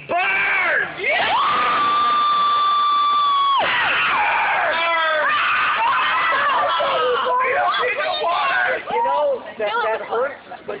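A crowd at a street show cheers loudly, with sustained whoops, shouts and a long held yell, then gradually breaking into scattered hollers and excited chatter.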